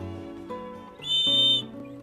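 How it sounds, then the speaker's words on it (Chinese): The lid of a ceramic ocarina gives one short, clear single-tone whistle that rises over a quiet background. "它的蓋子的話，其實就是像一般小朋友吹的那個口哨"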